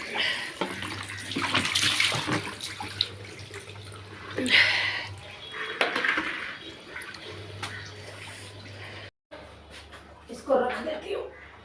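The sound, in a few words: fresh water filling a container in the bathroom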